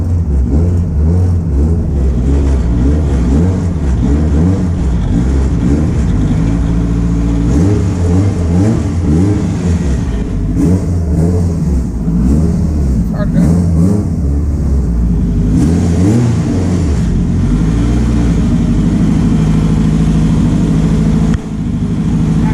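An ethanol-fuelled car engine is driven indoors, its loud, steady low rumble swelling through repeated revs with no talk over it.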